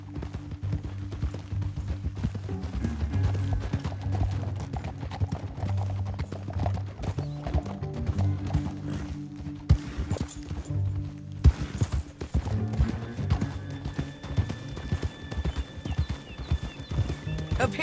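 Horses gallop in Red Dead Redemption 2 with rapid rhythmic hoofbeats, loud and close, and a neigh rising among them, all set against a game music score.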